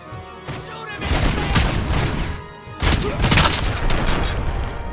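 Bursts of gunfire from the shooter game RoboCop: Rogue City, rapid repeated shots and booming impacts in two loud clusters with a short lull between, close and dense, with no talking.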